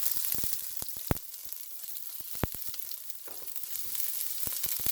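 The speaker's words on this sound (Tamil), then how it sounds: "கடுகு நல்லா பொரியட்டும் உள்ளி போடுறேன்" Mustard seeds and garlic frying in hot oil in a pan while prawn fried rice is prepared: a steady close sizzle broken by sharp pops and crackles from the seeds, some louder than others, with no talking.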